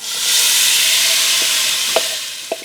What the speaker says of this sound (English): this is the time we add the crushed tomatoes